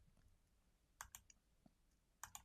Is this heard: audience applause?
no